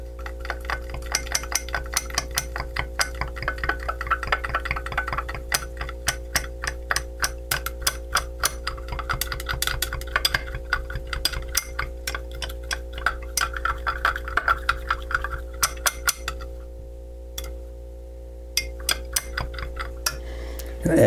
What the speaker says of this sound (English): Gotta stir these powders in good.